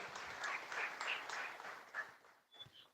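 An audience claps together in a moderate burst of applause that gradually thins out and fades toward the end.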